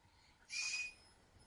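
A single short, high whistle from a person, lasting about half a second, clear and fairly close against a quiet background.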